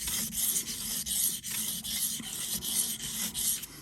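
A Spyderco folding knife blade drawn in long strokes across a sharpening stone, a dry rasping rub repeated in an even rhythm of about eight strokes, close and alone.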